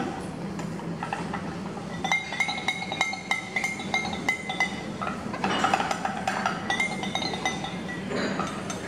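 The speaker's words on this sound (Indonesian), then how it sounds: "Kemudian kita aduk hingga homogen." Repeated glass clinks of a stirring rod against laboratory glassware as a solution is mixed until uniform, irregular light taps throughout, close and fairly quiet, with no speech.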